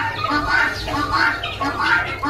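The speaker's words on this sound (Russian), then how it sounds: "Видите, там петух, здесь попугай." A rooster and a parrot in a zoo enclosure give loud, close, repeated squawking calls in about three harsh bursts over a steady background.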